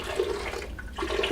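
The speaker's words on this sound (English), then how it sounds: "I start by adding a little bit of water" Water is poured into a blender to make a smoothie, a short close splashing gush that trickles on briefly.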